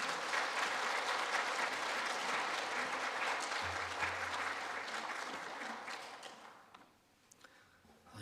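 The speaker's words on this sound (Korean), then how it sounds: "나오실 때 힘차게 박수하도록 하겠습니다." A church congregation at a Sunday morning service claps vigorously in welcome, dense sustained applause filling the room before tapering off into scattered claps near the end.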